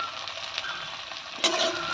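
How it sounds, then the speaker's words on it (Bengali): Drumstick vegetable stalks and tomato frying with salt and turmeric in a pan for a small-fish curry, a steady close hiss with a brief louder burst of sizzling near the end. "দিয়ে একটু ভেজে নেবো নুন হলুদ দিয়ে দিয়েছি"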